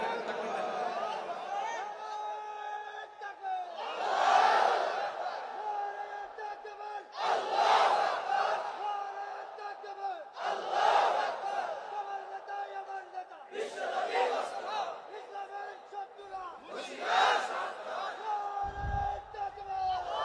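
At an Islamic religious gathering, a large crowd shouts the takbir chant in loud, regular waves, roughly every three seconds, each a massed roar of many voices answering a leading call.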